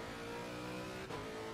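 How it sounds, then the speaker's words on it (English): A steady, high-pitched race car engine in Assetto Corsa Competizione drones at constant, over-high revs, slightly tinny and synthetic, with a brief dip partway through. "I'm revving the fucking thing too high."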